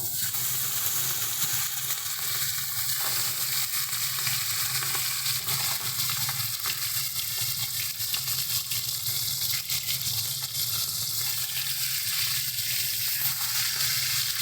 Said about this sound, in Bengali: তেল আমাদের সুন্দর মতো গরম হয়ে গেছে, এক এক করে এবারে আমরা মাছগুলো ছেড়ে দেবো।